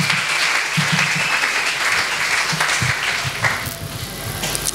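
A church congregation applauds the Lord in continuous, loud, dense clapping with rhythmic low thumps beneath, building slightly toward the end.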